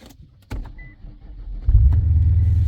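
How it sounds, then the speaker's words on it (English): A car starting after a jump start with jumper cables: a click, then a short crank, and the engine catches and settles into a low, steady idle, close and loud. "the car started up with no issues"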